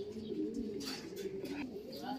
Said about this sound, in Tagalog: ito na po yung ibon ni Kabayan Loop